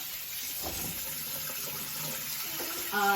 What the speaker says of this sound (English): he's washing his hands after cracking an egg